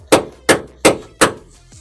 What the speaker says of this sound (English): I don't care how big your hammer is.